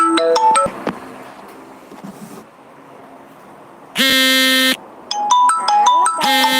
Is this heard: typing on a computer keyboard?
no